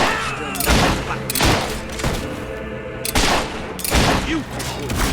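Gunshots in the Fable 3 video game, several loud sharp cracks arriving in separate bursts over a busy background of battle noise.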